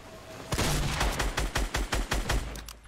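Rapid bursts of SCAR rifle fire in the video game Fortnite, a string of about eight sharp, loud shots in quick irregular succession, close and alone without talk.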